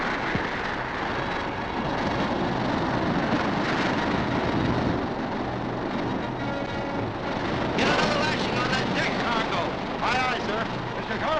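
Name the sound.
typhoon storm at sea around a ship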